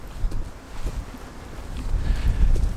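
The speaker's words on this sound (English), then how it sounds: "Wow, the wind's picking up now." Wind blows outdoors on a mild, windy morning, buffeting the microphone in rising and falling gusts of rumbling noise that swell toward the end, with no voices.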